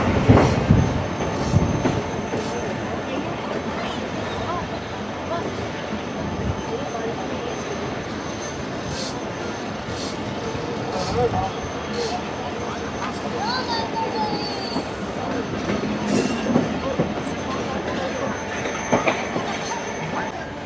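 A Millat Express passenger train runs over the rails toward a curve near Kotri, giving a continuous broad rumble with rattling wheels and brief squeals, loud and close throughout.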